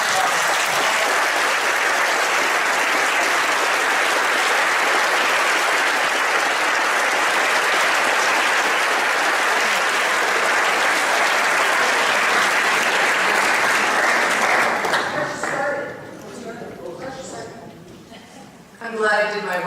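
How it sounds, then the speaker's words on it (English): Sustained loud audience applause fills a room at a 2017 by-election candidates' debate, dense clapping for about fifteen seconds before fading into scattered claps and a few voices, then a brief burst returns. "Big round of applause."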